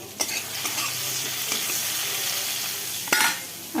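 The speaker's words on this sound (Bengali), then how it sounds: "এই যে এখানে মাছের ঝোলের আলু আর টমেটো ভাজা হচ্ছে" Potatoes and tomatoes frying in a pan for a Bengali fish curry, a steady close sizzle with a few sharp stirring scrapes near the start and a louder clatter of stirring just after three seconds.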